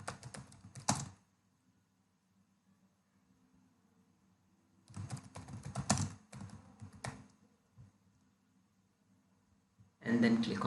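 Bursts of keystrokes on a computer keyboard while an email's recipient, address and subject are filled in, arriving in three separate spells of rapid clicking with quiet gaps between them.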